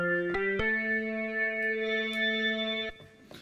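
A GarageBand keyboard instrument, an organ-like patch with chorus and distortion, holds steady sustained chords with a few note changes near the start, fading out at the end.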